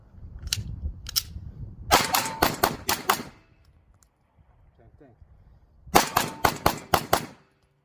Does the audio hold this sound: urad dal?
no